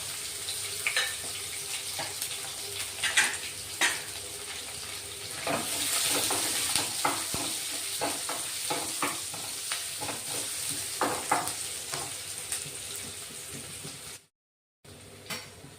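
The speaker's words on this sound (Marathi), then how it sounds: "कांदा चांगला परतून झाला" Small chopped onion, curry leaves and two green chillies fry in a pan for chicken gravy, giving a continuous sizzle with frequent spatula scrapes and knocks, then a brief dropout near the end, with no speech.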